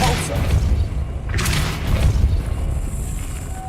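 A Depulso spell cast in the Hogwarts Legacy video game lands as a deep booming thump with a whooshing burst, over a low rumbling game soundtrack.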